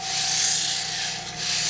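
Steady abrasive rubbing of 400-grit sandpaper on a wooden pool cue shaft, worked down toward the ferrule, heard as a continuous close-up rasp with a brief dip partway through and no talking.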